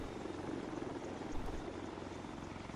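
An armed Orca helicopter in a military video game approaches with a steady, continuous rotor and engine drone, moderately loud and sustained throughout, with no talk over it.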